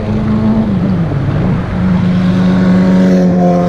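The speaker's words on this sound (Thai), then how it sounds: "ขับ มอเตอร์ไซค์มาเรื่อยๆไม่ได้รีบเร่งอะไ" A motorcycle cruising at an easy, unhurried pace along a road, its engine droning steadily and loudly up close with a brief dip in pitch midway before settling back to a constant hum.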